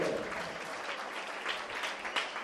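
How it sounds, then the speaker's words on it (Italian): Crowd applause at a football match between Nardò and Altamura during a substitution: steady, dense clapping from spectators filling the stand, moderately distant and continuous throughout. "tra gli applausi Bolognese"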